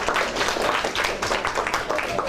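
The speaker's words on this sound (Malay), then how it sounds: "Tepuk tangan untuk mereka bertiga." Classroom of pupils applauding three classmates after a spontaneous role-play, a dense, steady patter of many hands clapping at once, close and fairly loud, with a little voice mixed in.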